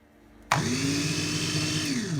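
An electric chopper starts abruptly and whirs steadily, blending kidney beans with garlic, spices and lemon juice into a paste, a loud close motor drone with a slight pitch sag as it runs.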